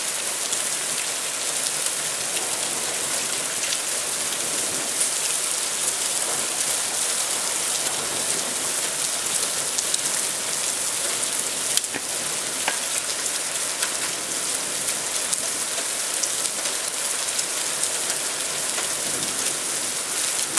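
Steady rain falls throughout a thunderstorm, a dense, even hiss of drops on surfaces with no speech, lasting the whole stretch at constant loudness.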